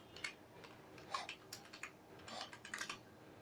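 Keys on a computer keyboard are tapped in short, uneven bursts of soft clicks while text is typed, quiet and close, with no talking.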